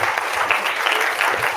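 A classroom of students claps for a classmate in an English lesson, a dense, loud burst of overlapping handclaps that stays even and unbroken for its short length.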